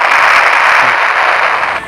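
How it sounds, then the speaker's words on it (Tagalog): An explosion in the Roblox game Brookhaven, a loud, dense burst of crackling blast noise that holds steady for most of the moment before it starts to fade. "May sumabog mga tropa."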